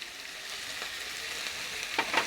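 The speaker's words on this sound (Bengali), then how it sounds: "এটা এবার একটু ভাজবো" Cauliflower fries in a pan for chilli fulkopi, giving a steady, close sizzle throughout, with a couple of louder stirring scrapes near the end.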